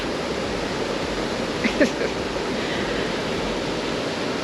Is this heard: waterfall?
yes